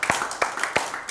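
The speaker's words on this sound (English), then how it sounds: "Give the Lord a hand clap tonight." Hands clapping in a steady rhythm, several sharp claps over roomy background noise, as a church congregation claps along together during a service.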